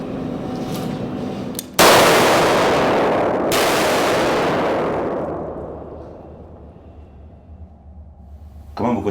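A gunshot rings out loud and close, then a second shot follows quickly, and each leaves a long reverberating tail that fades slowly before a brief sharp noise at the end.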